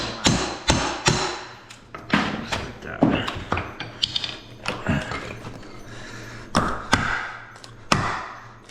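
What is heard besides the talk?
prying out trim with hammer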